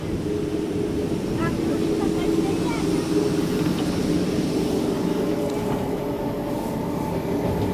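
A Vande Bharat express train from Delhi to Prayagraj running at reduced speed in heavy fog, heard from inside as a steady, loud, continuous rumble of wheels on rails with no clear breaks.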